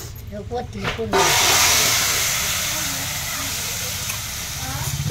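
Garlic and cumin hit hot oil over a wood-fired stove, bursting into a loud, close sizzle after a second of quieter sound, then crackling steadily and easing slightly.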